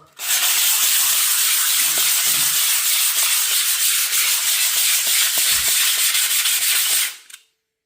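Continuous hissy rubbing of 180-grit sandpaper on hard marmorino plaster, close and steady for about seven seconds, then stopping abruptly.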